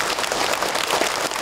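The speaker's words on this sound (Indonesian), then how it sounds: "Tepuk tangan atau buat boleh kita semua" A congregation at an Islamic lecture applauds with dense, steady clapping that fills the whole stretch without pause, loud and close.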